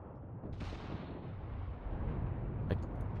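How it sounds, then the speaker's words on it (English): Distant explosion on a World War II battlefield in Mius Front, a low, muffled rumble rolling under steady background noise, with a second faint, sharp report a couple of seconds later. "I heard an explosion back here"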